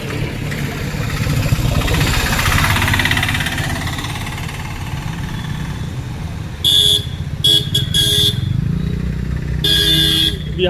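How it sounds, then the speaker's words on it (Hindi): Car horns honking on a busy street in Fort Kochi, Kerala, in several short bursts late in the clip over a steady rumble of engines and traffic. "यहाँ हॉर्न कौन बजाता है भाई?"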